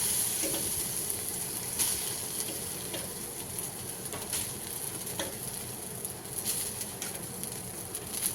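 Steady sizzling and scraping with soft patter as half the cooked rice goes into a pot of potato biryani, with light intermittent clinks and no talk.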